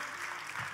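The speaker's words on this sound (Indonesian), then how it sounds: "Boleh sekali lagi tepuk tangannya yang paling meriah buat Yesus Tuhan kita." A church congregation applauding at a Christian sermon on family, a dense, steady clapping from many hands, filling the whole short moment.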